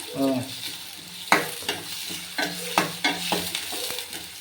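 Onions, chillies and curry leaves frying in oil, a soft sizzle broken by repeated scraping stirs of a spoon against the pan.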